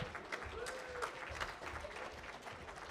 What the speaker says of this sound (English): And applause, please, for all these individuals.